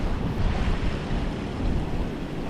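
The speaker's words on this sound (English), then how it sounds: "It's too windy." Strong wind buffets the microphone beside a spillway, a constant heavy roar with low rumbling gusts that holds steady throughout, with no voices.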